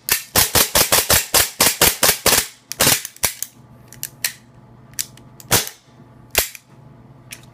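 A WE Tech M92FS gas blowback airsoft pistol fires a rapid string of about a dozen sharp, loud cracks, then a few spaced single shots over quieter mechanical handling noise.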